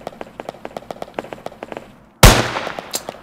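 Gunshots in the retro pixel horror game Animal Village: rapid light popping taps give way to one sudden loud burst that dies into a short rumbling tail.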